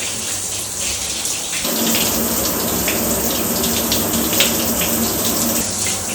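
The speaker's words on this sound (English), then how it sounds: "that water was running right onto the top of that unit. This is like a monsoon shower" Water pours heavily onto the top of a waterproof dry bag, a dense, loud continuous splashing rush like a downpour that grows fuller after a brief quieter start, with no voices.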